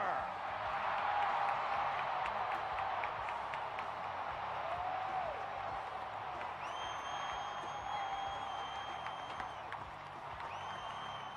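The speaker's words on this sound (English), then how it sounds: "First, your applause for Adam Anderson and" A large stadium crowd at a 2007 Monster Jam freestyle event in Atlanta applauds and cheers for the Gravedigger monster truck, a steady dense roar of clapping and voices with shrill whistles piercing through.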